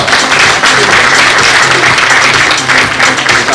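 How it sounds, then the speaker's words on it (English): A big round of applause at the Telangana Leadership Awards 2023 ceremony, a loud, continuous roar of many hands clapping together, dense and sustained with no pauses. "Big round of applause, come on."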